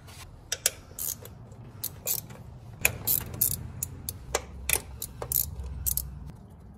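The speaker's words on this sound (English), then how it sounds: "what we're gonna do is take the 4 bolts off of the throttle body. They're all 10mm bolts." A ratchet wrench loosens the four 10mm throttle body bolts on a 2015+ Subaru STI, giving bursts of quick ratcheting clicks and light metallic taps close by, with short pauses between, over a low background hum.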